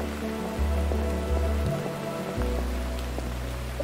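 Pouring rain in a dark adventure game, a steady hiss of rain on surfaces under low tonal game music that shifts pitch in slow steps.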